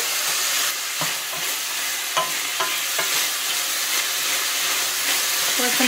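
Chopped organic garlic sizzles loudly in a pan, a close, continuous frying hiss broken by scraping stirs and soft clicks of a utensil, with no one talking.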